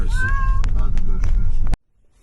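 A cat at the veterinary clinic meows in pain, with a couple of drawn-out cries early on and further yowls over loud background noise and nearby voices, then a sudden cut to near silence.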